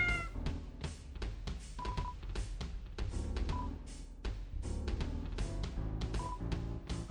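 Petting a cat-eared statue in the Deltarune video game brings short synthesized meows, brief and set against busy, steady game music.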